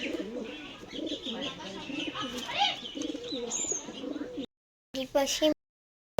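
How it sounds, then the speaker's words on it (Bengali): Domestic pet pigeons coo repeatedly in soft, throaty bursts close by, mixed with some chirping and faint voices, then cut off by brief gaps of silence. "এইখানে পায়রা পোষে এই এটা হচ্ছে ওদের বাড়ির পায়রা"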